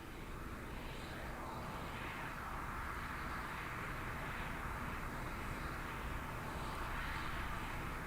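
NASA Shuttle Carrier Aircraft carrying a space shuttle, a steady distant engine roar at cruising altitude, broadband and constant throughout without voices.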